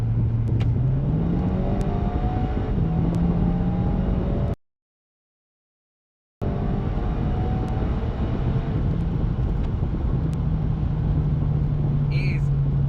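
Volkswagen Golf GTI Edition 30 accelerating hard at full throttle, engine note climbing steadily in pitch and staying loud, with a brief gap mid-way and a shift-like step in tone before the rising drone resumes.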